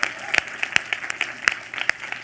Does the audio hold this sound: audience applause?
yes